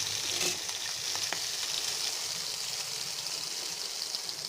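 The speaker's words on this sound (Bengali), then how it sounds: "দেখুন, আমি মাছ ভাজছি।" Rohu fish pieces fry in hot oil, a loud, steady close-up sizzle with crackling spits throughout and no voices.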